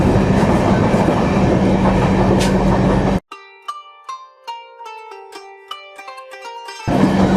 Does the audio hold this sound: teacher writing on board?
no